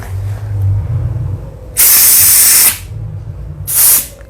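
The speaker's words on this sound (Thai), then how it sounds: "เดี๋ยวเราก็จะฉีดเบาๆ นะฮะอย่าฉีดแรง" Two loud hissing bursts of aerosol spray hit engine parts of a car with sluggish acceleration and a heavy throttle, one longer burst then a shorter one, with quieter background between.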